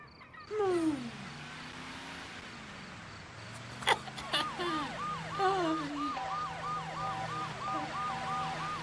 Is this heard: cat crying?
no